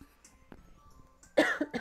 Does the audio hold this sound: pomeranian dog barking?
no